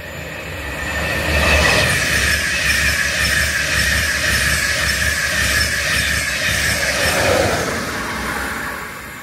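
A train rolls through New Barnet railway station, a steady rumbling roar with clattering wheels and a faint squeal, building quickly and holding loud before easing slightly toward the end.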